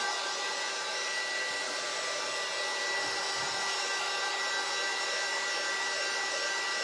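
A hair dryer blowing on a freshly painted Easter porch board, a loud, steady whooshing hum with a constant tone, running without a break close to the listener and with no talk.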